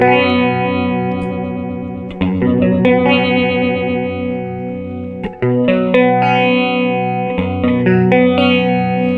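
An electric guitar plays sustained chords through an MXR Phase 100 phaser pedal, its tone swirling and oscillating, loud and alone with no talking.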